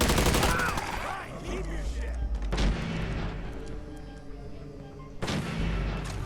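Gunfire in the video game Fallout 4 fills the scene: repeated booming shots and rattling bursts at moderate loudness, with strong blasts near the start, around two and a half seconds, and again past five seconds.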